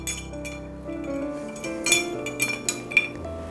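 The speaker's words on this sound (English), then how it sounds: "Under your ice, you can just keep stirring." Ice is stirred in an Old Fashioned cocktail glass, producing light clinks and chinks of ice and spoon against glass over a faint hum.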